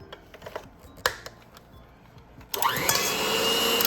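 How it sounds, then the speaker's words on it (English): An electric hand mixer creams a cup of sugar for cookie dough, starting up about two and a half seconds in with a steady whirring drone, after a stretch of faint clicks and handling sounds. "Then we use an electric mixer for 2 to 3 minutes."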